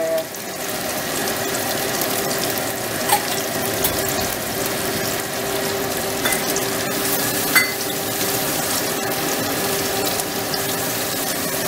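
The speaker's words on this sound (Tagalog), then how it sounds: "Ako rin, lalagyan ko ng tubig." Water poured into a pan of sayote (chayote) frying on a stove, a steady broadband sizzle and hiss running throughout with a few small clicks and clatters, close and fairly loud with no talking.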